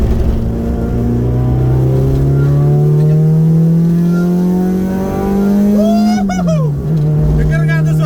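A Honda Civic EG6 engine with full-spec intake revs in one long steady climb, droning loud and close, then drops off sharply near the end while a voice briefly speaks over it.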